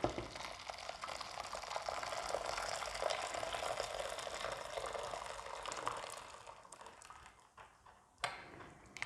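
Two litres of water bubble and rumble steadily in a pot, a dense, continuous boiling hiss that thins out toward the end, with a brief knock near the close.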